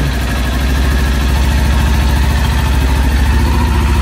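A 2020 Kawasaki Ninja 400 ABS motorcycle engine idles close by, a steady, loud low rumble with an even throbbing pulse that continues for the whole stretch without any talking.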